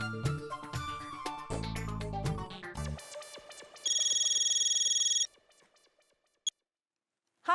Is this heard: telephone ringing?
yes